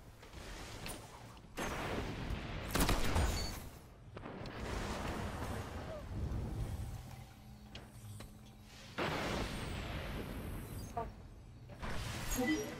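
Gunfire and explosions in an Xbox One shooter video game, heard as dense bursts of loud rattling shots and booms coming and going in waves, mixed with game sounds.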